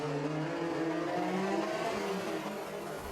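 A Peugeot 208 rally car at the Barum Czech Rally in Zlín revs hard on full power to claw out of a ditch, its engine holding a loud, steady, strained note with shifting pitch.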